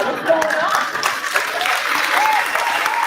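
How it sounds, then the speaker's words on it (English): A conference audience claps in a short burst of applause, fairly loud and close, with a voice heard faintly over the clapping. "Are you too cool to clap this morning?"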